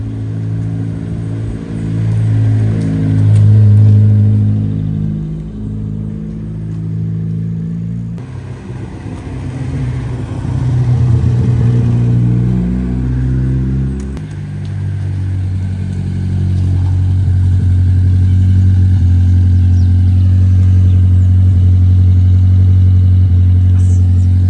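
A Chevette Turbo car on new wheels driving past, its engine droning and revving through the gears, loud and close, with the tone rising and falling before settling into a steady hum.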